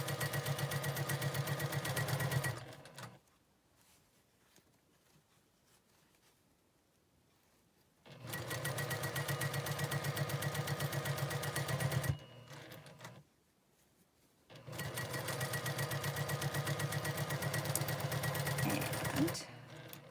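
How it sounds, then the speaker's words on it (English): A sewing machine stitches over seam allowances on a quilt block in close, loud bursts of rapid even whirring, three runs separated by quiet pauses. "Just take your time when you're sewing over those seam allowances and get them nice and tight and flat."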